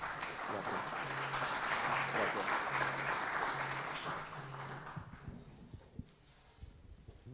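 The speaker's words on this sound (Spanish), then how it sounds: "Para el escribano Encina, por favor, un fuerte aplauso." An audience at a notarial seminar breaks into applause for a speaker: several seconds of dense, fairly loud indoor clapping that gradually thins and fades into quieter room noise with a few scattered claps.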